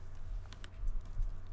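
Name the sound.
typing on a computer keyboard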